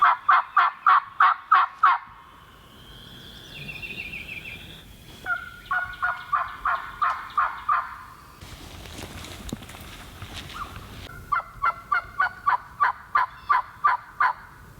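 Eastern wild turkeys in Tennessee gobble loudly in repeated rattling bursts, with softer bird calls and rustling in the gaps between the volleys.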